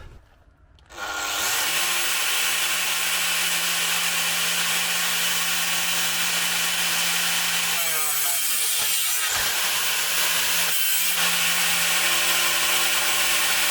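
A Bosch GWS 17-125 angle grinder spins up with a rising whine and then runs steadily, its pitch dipping and wavering around the middle as it bites under load. No one speaks.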